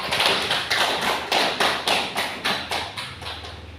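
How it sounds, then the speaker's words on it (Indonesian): Students in a classroom clap for a group after its class presentation, a close, rhythmic run of about nine sharp, evenly spaced claps in near-unison. "kita berikan aplaus untuk kelompok 3 ya"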